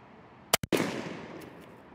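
A Winchester SXP 20 gauge pump shotgun firing a Viper TSS load with a Rectifire choke, one sharp, loud blast heard close, followed by a long rolling echo that slowly fades outdoors.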